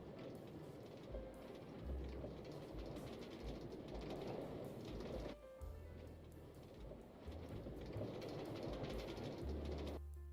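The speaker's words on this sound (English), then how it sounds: "The train doesn't turn around." Train running along rails with a continuous rumbling roar and rhythmic clatter, heard from inside at a steady low level, with a brief dip in the middle and near the end.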